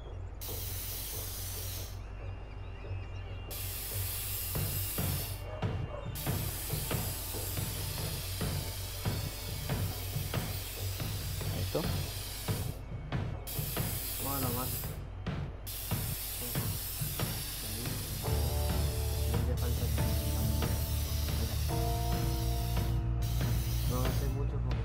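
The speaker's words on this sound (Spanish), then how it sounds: "Aplica pintura de aerosol." Aerosol spray paint hissing from a can in inFamous Second Son, steady sustained bursts interrupted by short pauses, mixed with rattling mechanical clicks and game sounds, ending under a low tonal hum.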